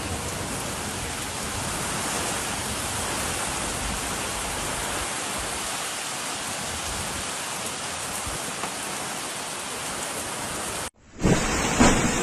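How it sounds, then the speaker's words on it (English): Heavy storm rain with strong winds pours in a loud, dense, unbroken roar for most of the stretch, then cuts off abruptly near the end before a brief noisy burst. "Heavy rain, accompanied by strong winds, affected residents in many towns."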